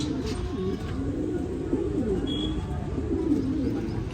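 Pigeons coo in low, throaty, repeated rolling phrases, steady and fairly close, with a soft background hum and no talking.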